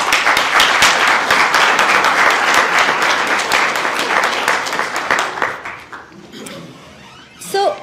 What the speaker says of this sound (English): Let's give this outstanding guest a round of applause.